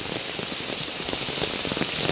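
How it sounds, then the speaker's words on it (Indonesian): Heavy rain pours down steadily in a forest village in Padasenang, a dense, continuous hiss of drops striking surfaces up close, with no voices. "Wow, hujan sangat deras sekali teman-teman."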